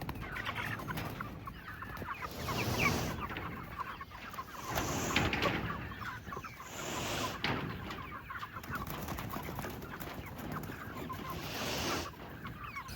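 Pastured meat chickens cluck steadily out in a field, a busy flock murmur of overlapping calls and squawks that rises and falls over a constant outdoor background.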